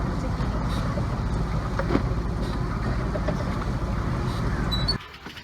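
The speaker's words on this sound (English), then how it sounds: "Janna, Sophie, and I and Daly are sailing from Papeete in Tahiti to Moorea." A sailboat under way from Papeete, Tahiti, toward Moorea, with steady wind and water rush filling the scene throughout before dropping away at the end; no talk.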